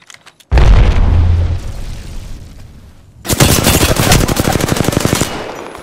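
Gunfire from a Kraber rifle in a shooter video game: a loud, close heavy blast booms out, then after a lull comes a dense, rapid rattling burst of shots lasting several seconds.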